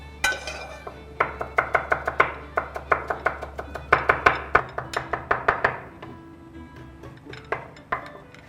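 Parsley being chopped very finely with a knife on a board: a rapid, regular run of sharp, close chops, a couple of dozen strikes in bursts, with no talking.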